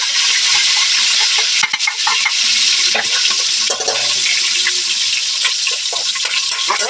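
Chili, garlic and onion sautéing in oil for a shrimp paste dish, a loud, steady close-up sizzle with occasional scrapes and clinks of a stirring utensil.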